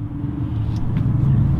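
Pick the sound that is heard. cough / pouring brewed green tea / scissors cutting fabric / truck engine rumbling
truck engine rumbling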